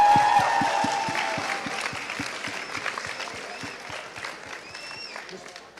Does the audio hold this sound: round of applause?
yes